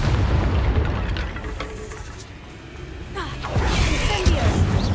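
A Confringo fire-blast spell goes off in Hogwarts Legacy, a loud booming burst that swells near the end over a rumbling, explosive game backdrop, with a voice heard partway through.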